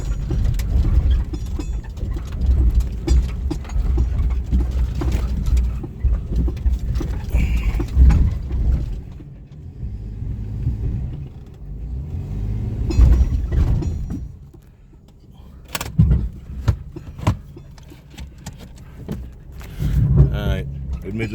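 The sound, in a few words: off-road vehicle driving in four-wheel drive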